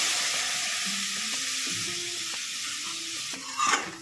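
Spice paste for a Bengali boal fish curry sizzles steadily in hot oil in a pan, then a brief, louder hissing burst rises near the end as water is poured in; no one speaks.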